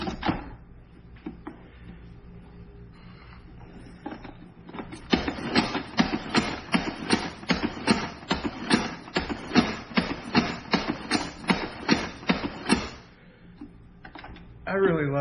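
A Ninja kitchen knife is drawn through a sharpener in a rapid run of about fifteen rhythmic rasping strokes, starting after a quiet lead-in and ending with a short pause.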